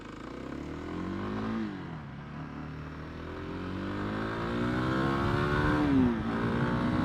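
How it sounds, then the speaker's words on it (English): A Honda CRF300L or Kawasaki KLX300 single-cylinder dual sport motorcycle rides on a street, its engine droning steadily and close, with pitch sweeping up and down through gear changes and a brief rev near the end. "Getting back out in the street just reminds you how happy even these low horsepower single cylinder bikes are."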